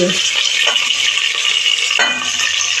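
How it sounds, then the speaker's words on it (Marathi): Green beans, cauliflower, carrot and capsicum, with potato, for veg pulao sauté in a hot pan. A loud, steady sizzle is broken by a couple of scraping stirs. "आपण चांगल्या परतून घेऊया"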